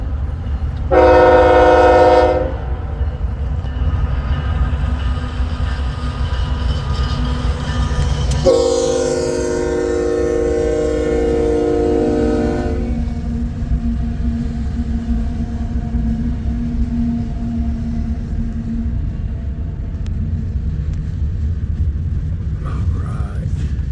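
Eastbound intermodal freight train passing near a rail junction, opening with a loud multi-tone horn blast, then a second horn call and a steady heavy rumble of rolling cars that continues for about twenty seconds.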